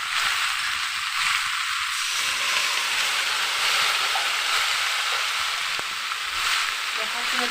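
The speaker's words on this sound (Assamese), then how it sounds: "এইফালে আমাৰ ছজনা গছৰ ফুল ভাজি হৈ আছে" Drumstick tree flowers fry in oil in a pan with a steady, close sizzling hiss that holds level throughout, no voices over it.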